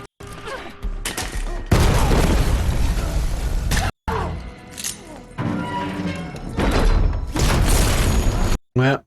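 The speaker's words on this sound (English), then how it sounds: "Are those HE grenades?" Repeated large grenade explosions from an action sequence in the film Ballerina, with heavy booming bursts across most of the stretch, separated by brief gaps and one sharp cutoff near the end.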